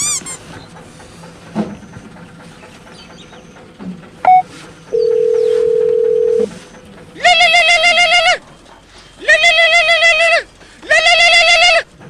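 A telephone call plays out over a rural comedy scene: a short burst of keypad dial tones, one long steady tone, then three loud, evenly spaced ringback tones, with faint talk in the background.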